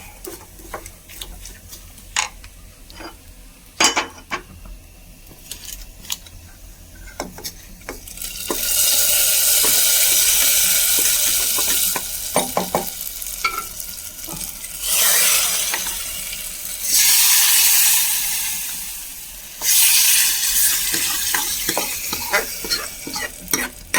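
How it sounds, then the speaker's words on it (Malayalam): Fried coconut tipped into a pan of erissery curry: scattered clicks and taps of a spoon first, then loud bursts of sizzling in several waves as it is stirred in, close and without voices. "നല്ല നാളികേരമൊക്കെ നന്നായിട്ട് വറവായിട്ടുണ്ട്. നമുക്കിത് കറിയിലേക്ക് ചേർത്ത് കൊടുക്കാം."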